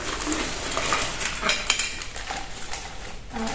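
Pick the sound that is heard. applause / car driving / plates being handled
plates being handled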